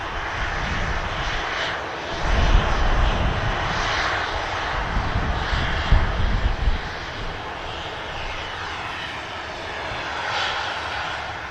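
EasyJet airliner from Bilbao touching down at Manchester, a steady loud roar of aircraft engines with broad rumble that swells briefly mid-approach, heard alone without voices.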